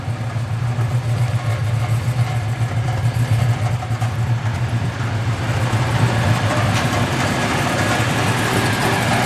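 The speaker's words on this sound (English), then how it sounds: "To give you a little bit of the sound of it at idle." A 1996 Impala SS with a 383 engine idles, giving a loud, steady low rumble with an even, unbroken drone throughout.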